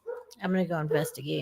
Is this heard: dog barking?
yes